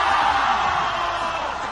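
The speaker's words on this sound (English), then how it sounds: "Let the crowd do the talking." A packed basketball arena crowd roars and cheers at the 3x3 FISU World University League finals in Xiamen, China, a loud, dense, steady wall of noise filling the whole moment.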